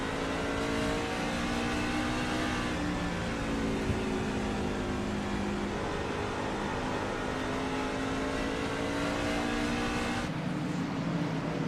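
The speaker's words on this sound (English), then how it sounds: "Let's hop on board with Joshua Altus, one of the fastest trucks on the track right now." A racing truck's engine roars steadily at Bristol in a Stars & Stripes Truck Series race, loud and close as if heard on board, holding a sustained high drone with a sharp shift in pitch near the end.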